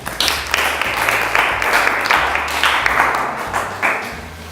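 An audience claps and applauds in steady, dense bursts that carry on throughout, loud and close, with a brief swell partway through.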